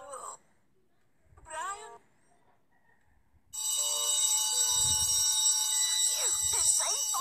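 A school bell rings loudly and steadily with a harsh electronic tone in a cartoon scene, after brief voices and with a voice breaking in near the end.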